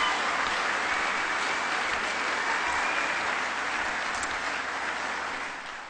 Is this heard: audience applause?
yes